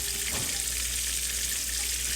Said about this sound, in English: this is sizzling up real good now